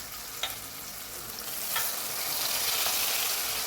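Tomatoes sautéing in hot oil in a pan for kathirikkai murungakkai (brinjal and drumstick) sambar, a steady close sizzle with a few sharp crackles, building slightly louder toward the end.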